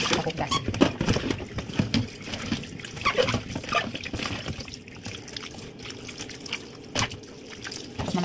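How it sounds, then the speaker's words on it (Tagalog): Salted Chinese radish being washed in water for pickles, with steady splashing, trickling and dripping close by, continuous through the clip, with brief voices now and then. "hugasan ko na muna to"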